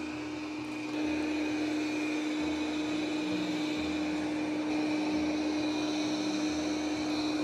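Steady motorized whir of a Proscenic M8 Pro robot vacuum running continuously, with a constant hum and shifting low rumble as it moves, no voices.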